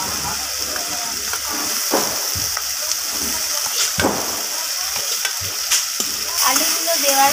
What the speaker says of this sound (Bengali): আলুগুলো দেওয়ার পর আমি সব মশলার সাথে এইভাবে আলুগুলোকে কষিয়ে নেব